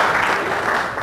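An audience applauds at a talk on white privilege, a dense, steady burst of clapping from a full room, brief and fairly loud.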